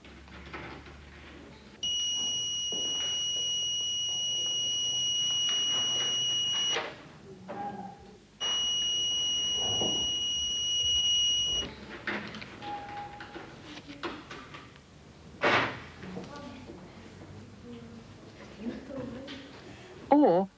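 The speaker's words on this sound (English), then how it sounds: "The alarm should sound if they press this test button." A kitchen smoke alarm circuit wired through an OR gate sounds from a test button, giving two long, steady, piercing electronic tones with a short gap between them, while a voice talks quietly around them.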